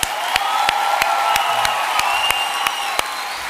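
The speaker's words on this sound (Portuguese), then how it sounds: "A salva de palmas, juventude aí!" A church congregation's young people are applauded in a crowd clapping with cheers, set against loud sustained music with a regular beat that largely covers the hands.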